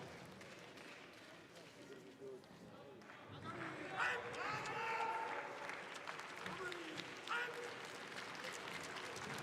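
A crowd at a Karate1 Premier League karate event in Moscow applauds and cheers, with sustained clapping that swells midway and a commentator talking over it.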